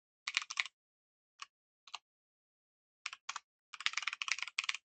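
Bursts of close computer keyboard typing, quick clusters of key clicks separated by short pauses, quiet and alone.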